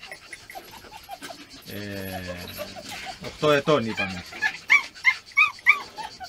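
An eight-year-old all-weather beagle pants, yips and whimpers in short excited bursts close by, while someone talks over the dog's noises.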